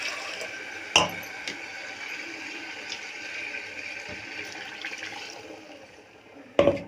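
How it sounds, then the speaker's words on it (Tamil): Water pours steadily into a pan of potato curry with a soft, continuous splashing, broken by a couple of sharp clinks of metal utensils. "கொஞ்சமாக தண்ணி விட்டு"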